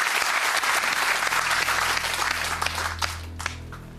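A television game show studio audience bursts into loud cheering and applause, dense clapping that holds strong before thinning and fading toward the end.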